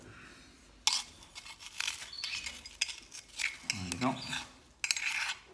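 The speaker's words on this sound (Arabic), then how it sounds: "خلطوا كامل المكونات هذو مع بعض" Bird feed ingredients mixed together with eggshells make faint, irregular clinking and crunching rattles close by in a light scatter of bursts, with a brief spoken word at one point.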